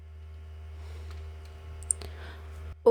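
A computer mouse clicks a few times, small sharp isolated ticks close by over a quiet steady hum, with no talking.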